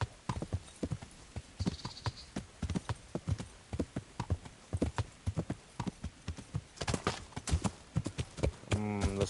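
Horse hooves clop in the medieval video game Kingdom Come: Deliverance, a steady rapid galloping rhythm of sharp close thuds continuing throughout, ending with a short whinny-like sound.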